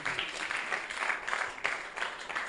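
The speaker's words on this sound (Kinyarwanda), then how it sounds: "mujyongera amashyi rino torero naryo" Applause from a church congregation, a fairly faint, steady wash of clapping with slight swells, continuing throughout without any voices on top.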